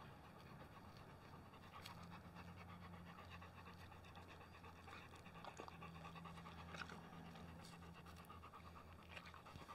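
A dog pants steadily indoors during a quiet yoga session, a soft rapid rhythmic breathing heard alone and close over a low background hum.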